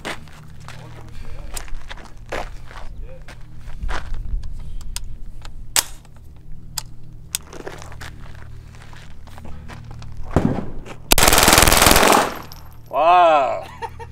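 Shots from a Tippmann Micro 22 LR rifle ring out as scattered sharp cracks across the clip, with a harsh, loud burst near the end; people talk faintly in the background.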